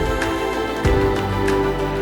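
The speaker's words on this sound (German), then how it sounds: "Das Brummen, was ihr hier hört, sind die Generatoren." Steady low drone of generators inside an Icelandic power plant, a continuous hum with faint tonal lines and a brief thump partway through, heard alone without talk.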